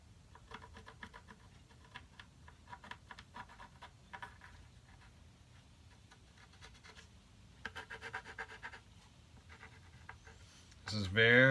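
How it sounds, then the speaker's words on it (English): A pencil scratches short marks around the saddle of a fretless slide cigar box guitar, quiet close scribbling in bursts that ends with a louder bump. "So I'm just going to use a pencil."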